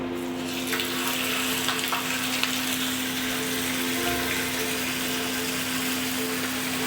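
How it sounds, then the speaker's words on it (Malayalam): Marinated chicken roasts in a little oil on the stove, giving a continuous, even frying hiss with a steady low hum beneath, close and unbroken, with no talking. "ആ ചിക്കൻ നമുക്ക് ഒന്ന് അടുപ്പിൽ വെച്ച് റോസ്റ്റ് ചെയ്തെടുക്കാം കേട്ടോ."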